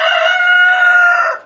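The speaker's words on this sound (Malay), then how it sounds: "Ada ayam dah." A rooster crows once in a long, loud, sustained call that tails off near the end, heard alone without talk.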